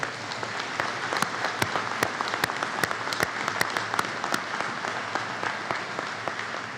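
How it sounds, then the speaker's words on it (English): Commencement audience at a college of law ceremony applauding steadily for graduating classmates, a dense, even wash of many hands clapping throughout, with sharper individual claps popping out near the front. "I think you owe a round of applause to your classmates for the work that they did"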